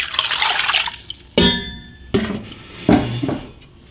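Water, 2.5 quarts, being poured into a metal cooking pan: three separate splashy pours, each starting with a bright ringing clink and a gush of liquid before trailing off, close and clear with no talking.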